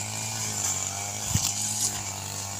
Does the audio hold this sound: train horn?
no